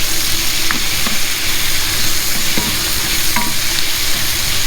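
Loud, constant sizzling of chicken pad thai stir-frying in a hot pan over high heat, with occasional scraping and clinks of a utensil against the metal.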